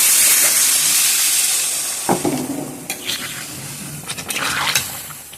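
Water poured into a pan of sizzling mutton curry, a loud bright hissing burst of steam close up that fades over two seconds, followed by quieter bubbling and scattered clinks of stirring.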